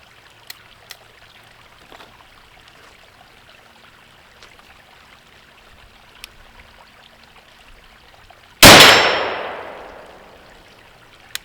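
A single sharp report from a .32 caliber Thompson Center black powder pistol, loud and close, with a long decaying tail after a stretch of quiet.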